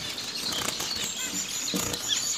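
Caged zebra finches flutter and flap their wings in quick, soft bursts, with faint tiny chirps mixed in, close by and without talk.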